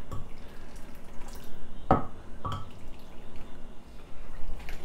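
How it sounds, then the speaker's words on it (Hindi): Milk being mixed and poured back and forth with a cup to cool it and raise froth on top, giving soft splashing, dripping and trickling liquid sounds with a couple of sharper splashes, fairly quiet and close, no talk. "इसकी मदद से हम इसको दूध को इस तरह मिक्स करते रहेंगे ताकि हमारे दूध का टेम्परेचर भी डाउन हो और ऊपर झाग भी बने"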